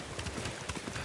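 Horse hooves clip-clop over terrain in the game Ghost of Tsushima, a quick run of close, distinct hoofbeats with no clear talk.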